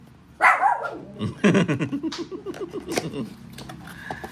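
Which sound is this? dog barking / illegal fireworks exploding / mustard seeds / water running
dog barking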